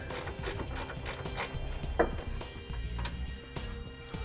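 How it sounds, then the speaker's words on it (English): A 14mm socket ratchet turns out a bolt on a 2005 vehicle's air helper spring holder, giving a steady series of close, dry mechanical clicks with one sharper knock partway through. "I gotta remove this bolt. So I'll be using a 14mm socket to do that with."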